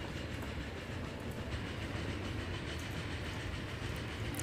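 A train in the Transport Fever 2 video game rolls along steadily, a dense continuous rumble of wheels on rails with faint clattering, loud and unbroken throughout.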